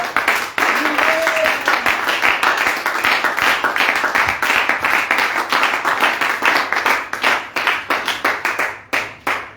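Congregation clapping steadily in a church service, dense rhythmic handclaps filling the space and thinning into scattered claps toward the end, with faint voices underneath.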